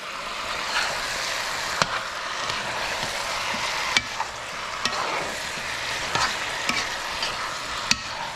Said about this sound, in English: This is frying up nicely.